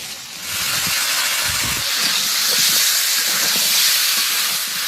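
Chicken meat fries in a pan with a continuous hissing sizzle, broad and steady at close range, with a few soft knocks and stirs underneath.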